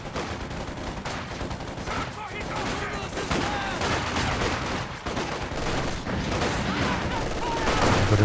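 Light machine gun fire in the Company of Heroes 2 strategy game, rattling sustained bursts amid a busy battlefield of other gunshots, steady and loud throughout.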